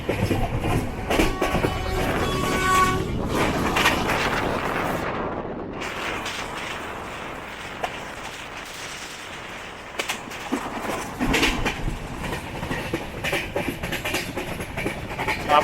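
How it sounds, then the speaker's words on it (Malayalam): The Chennai–Mangalore Express passes near Bekal beach at sunset, making a loud, continuous roar with rhythmic clatter and wheel rumble that fades slightly midway before building again. "ആ പോയത് ചെന്നൈ മംഗളൂർ എക്സ്പ്രസ് ആയിരുന്നു."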